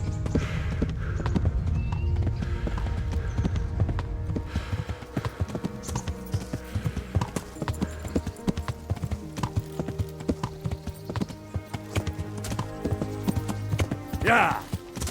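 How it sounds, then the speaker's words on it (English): Horse hoofbeats from riding in the video game Kingdom Come Deliverance, a steady clip-clop running throughout under game music and other effects, with a brief whinny near the end and a voice talking over parts of it. "Getting good at this whole horse jumping thing."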